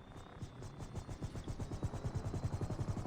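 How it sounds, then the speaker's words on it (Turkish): A Hunter military helicopter in GTA 5 Online flies with a fast, steady rotor chop over a broad engine whine, moderately loud and growing slightly stronger, with no talking. "Bayağı güzel bir helikopter."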